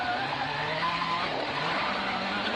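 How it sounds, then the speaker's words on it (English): A WRC rally car on a Portugal Rally stage scrabbles for grip, with steady tire scrubbing and skidding noise over continuous engine roar at close range and no voices. "You hear the car just scrabbling for grip there, and Danny just managing the throttle"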